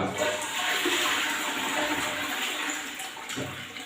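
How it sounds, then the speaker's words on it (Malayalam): A toilet flushes with a continuous rushing, gurgling water surge lasting several seconds, close and fairly quiet, with no talking. "ഒന്ന് ഫ്ലഷ് ചെയ്ത് കൊടുത്തു കഴിഞ്ഞാൽ നീറ്റ് ആൻഡ് ക്ലീൻ ആയിരിക്കും ക്ലോസറ്റ്"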